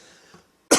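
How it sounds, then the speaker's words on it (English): A single loud cough rings out with a reverb effect, a sharp burst that trails off into echo after a stretch of near silence, with a faint quieter sound just before it. "Coughing sounds real interesting when you got reverb going with it at the same time"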